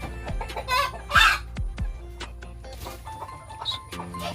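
Several local village chickens cluck and squawk close by in quick, irregular bursts, with a few softer calls trailing off.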